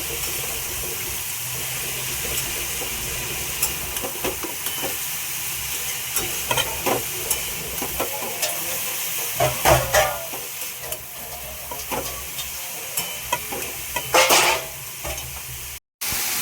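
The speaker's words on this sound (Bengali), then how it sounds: "একটু নেড়ে চেড়ে নেব" Papaya with peanuts, salt and turmeric is stirred in a pan over a low, steady sizzle, with scattered scrapes and clinks of a spoon against the pan, louder in a few bursts.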